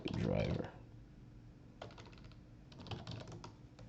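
Quiet keystrokes on a computer keyboard as an npm install command is typed, with short bursts of taps separated by pauses, after a brief spoken moment at the start.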